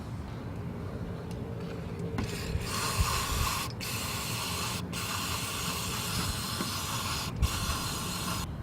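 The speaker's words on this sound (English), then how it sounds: "just go through here and thoroughly spray the butterfly" Aerosol spray can hissing steadily as it coats a carburetor butterfly valve during engine cleaning, a continuous close hiss broken by a few brief pauses between bursts.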